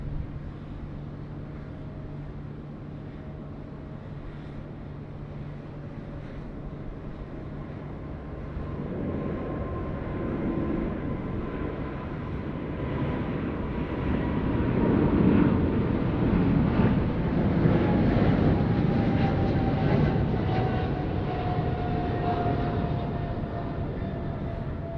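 A Velocity aircraft landing on runway 34 left at Sydney Airport at night, in an 18-knot crosswind: a steady low jet roar that gradually swells and rises over about 25 seconds with wind rumble, and no talk.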